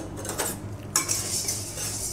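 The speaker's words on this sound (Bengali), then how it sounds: "শুকনো কড়াইতে ডালটা ভাজবো" Lentils are dry-roasted in an oil-free kadai, a metal utensil scraping and clinking against the pan in short irregular strokes, with a brighter rattling stir starting partway through.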